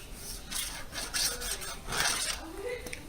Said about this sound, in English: I keep the razor blade perfectly straight up and down, and I just pull it.